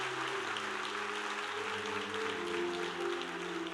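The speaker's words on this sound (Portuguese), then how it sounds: "dá uma salva de palmas, dona Rita aí" A church congregation gives a round of applause for an elderly woman named Dona Rita, soft but steady clapping running under a sustained musical tone from a keyboard.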